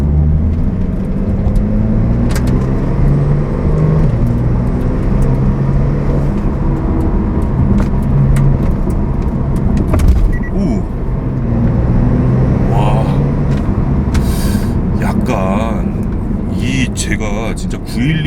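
A Porsche 911 Turbo S Cabriolet (992) engine held at 3200 rpm with the sport exhaust off, a steady, fairly loud low drone inside the car, with a person talking over it.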